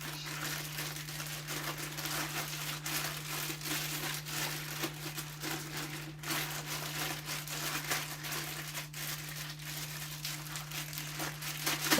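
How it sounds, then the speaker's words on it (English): Plastic bag of seasoned goat meat being massaged by hand: continuous soft crinkling and squishing, close and steady for the whole stretch, alone over a constant low electrical hum. "just massage the plastic bags to season the goat meat"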